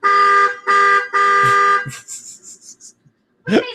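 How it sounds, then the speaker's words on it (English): Three long, loud blasts of a car horn with short gaps between them, then a series of fainter high beeps, a quiet pause, and a brief burst of noise at the end. "Keep honking, my girl."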